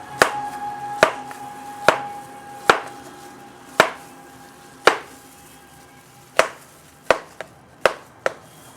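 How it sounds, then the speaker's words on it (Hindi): A kitchen knife with a dulled edge chops cucumber on a board for kala chana chaat. About a dozen sharp, close chops land roughly a second apart, then come quicker toward the end. "अब इसको इस वाले हथियार से काटते हैं"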